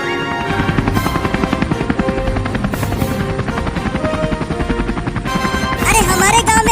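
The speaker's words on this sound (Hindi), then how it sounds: "अरे हमारे गांव में हेलीकॉप्टर" Helicopter flying over a village, its rotor chopping in a steady rapid pulse that stays loud and close throughout, with music and effects layered over it.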